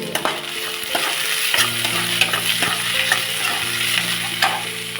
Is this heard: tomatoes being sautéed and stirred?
yes